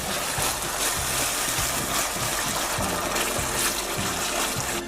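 Boiled al dente tagliatelle being drained, with water pouring and gushing off steadily in a continuous, fairly loud wash, alone, no talk.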